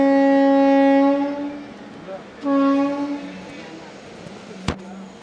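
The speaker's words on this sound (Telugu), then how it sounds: "చెన్నపట్నం నుంచి మన ట్రైన్ బయలుదేరింది" A Rajya Rani superfast express train leaving Channapatna station, with a long loud horn blast, a second shorter blast, then rumbling wheels and a sharp bang from the carriages.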